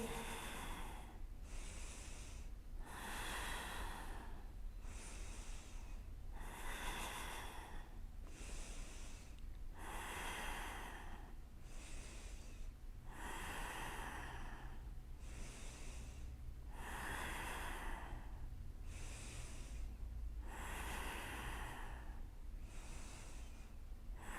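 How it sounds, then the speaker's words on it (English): Deep, steady breaths during a vinyasa yoga practice building up to a shoulder-stand, each inhale and exhale sounding close and rhythmic, repeating about every two seconds for the whole stretch with no talking. "Breathe deeply."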